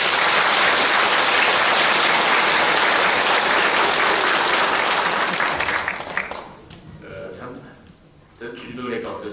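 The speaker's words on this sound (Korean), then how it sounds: "그분들 환영의 박수 한번" A church congregation claps in welcome, dense applause filling the room for about six seconds before it thins out and a voice starts speaking.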